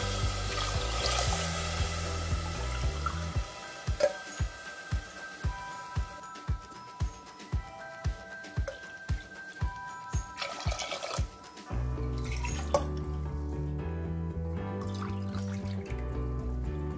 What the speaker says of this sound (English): Now I'll pour 4 glasses of water.